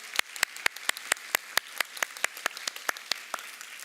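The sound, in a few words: applause welcoming church elders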